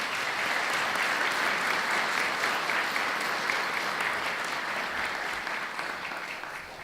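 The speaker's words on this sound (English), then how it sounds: "Let's give our City Finance Department a round of applause." Sustained audience applause at a city state-of-the-city address, a dense steady clapping from a large crowd that holds for several seconds and tapers slightly at the end.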